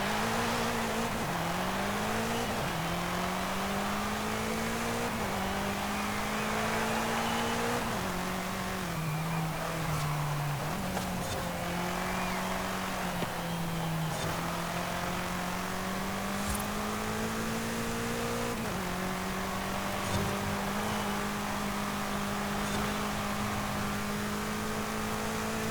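A 2020 BMW M8 Competition Coupe engine in Forza Horizon 5 revs and holds steady at high pitch, shifting through gears with brief dips, continuous and loud for the whole stretch, no talking.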